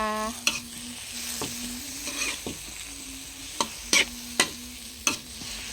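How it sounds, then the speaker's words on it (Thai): Pork and holy basil leaves stir-frying in a hot pan, a steady sizzle with a faint hum beneath and several sharp clinks and scrapes of a spatula against the pan. "ใส่ใบกะเพรากันเลยจ้าหอมๆเลย"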